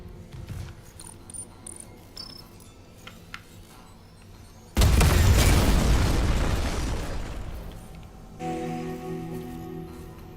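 A detonation in the Dead Space Remake video game: one loud, sudden blast that roars and then slowly fades over several seconds, followed by a lower rumbling tail with mechanical hum.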